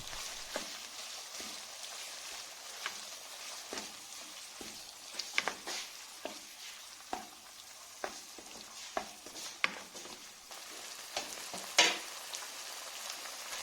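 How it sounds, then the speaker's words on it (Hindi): Chicken and tomato sauce frying in a pan while being stirred, a steady soft sizzle with scattered scraping and clinking strokes of the spoon at irregular intervals, close and moderately quiet with no talking. "अभी हम टमाटो सॉस डाल के और चिकन और टमाटो सॉस को मिक्स कर रहे हैं"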